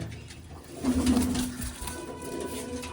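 Pigeons kept on a Punjab rooftop give a low, throaty coo that swells in the middle, moderately close, over soft outdoor background noise and with no talking.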